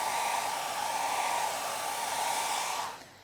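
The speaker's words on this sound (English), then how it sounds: "There we go, let's heat set our hairspray." A hair dryer blows a steady, loud rush of air to heat-set hairspray on a fifties pompadour hairstyle, running close by for about three seconds before switching off.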